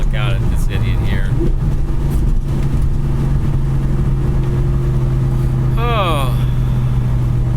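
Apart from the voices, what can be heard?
Coyote V8 engine-swapped car driving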